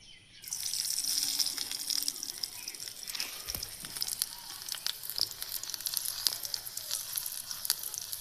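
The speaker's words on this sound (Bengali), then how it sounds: "এটা গরম হয়ে গেলে পেঁয়াজ মরিচ দিয়ে দিব আমি।" Onion and chilli hit hot oil in a small home kitchen pan, breaking into a loud, steady sizzle that starts abruptly and holds bright and continuous throughout.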